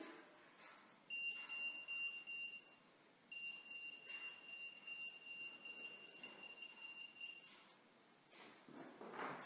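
An EMF meter beeping during a paranormal investigation in the East Coulee School Museum, giving a faint, high electronic tone in two sustained stretches with short chirps, heard in a quiet room.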